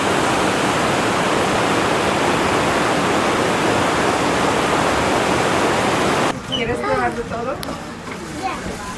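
White water rushes loudly near a famous cave in Japan amid autumn foliage, a dense unbroken roar for about six seconds before it cuts to someone talking over quieter background noise.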